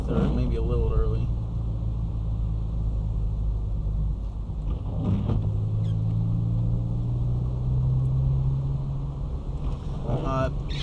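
A 2007 Honda Civic LXSP engine drones steadily as the car drives a snowy Ontario road, shifting into third gear, with a low continuous rumble and rising pitch under a voice talking throughout.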